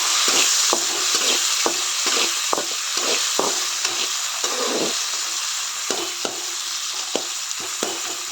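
Egg bhurji frying in a pan with tomato and salt, a steady close sizzle punctuated by repeated sharp spatula taps and scrapes against the pan.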